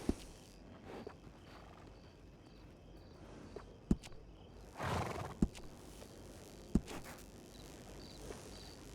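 A horse in Red Dead Redemption 2 snorts and shifts with scattered sharp hoof knocks, over a quiet outdoor bed with crickets, no talking.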